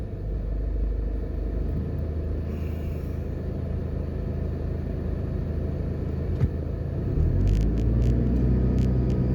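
A car drives through Newport West toward Marcus Garvey Drive in Kingston, Jamaica, giving a steady loud engine and road rumble throughout, with a few faint high clicks near the end.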